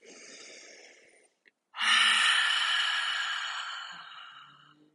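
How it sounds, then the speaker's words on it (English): A deliberate yoga breath, first a softer hushed exhale, then after a short pause a long, loud, open-mouthed exhale like fogging a mirror, breathy and close, fading slowly with no talking. "sending your breath clouding up the mirror"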